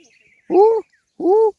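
Two short, clear bird calls in a Gir village, each a falling two-tone note, separated by a brief pause in an otherwise quiet setting.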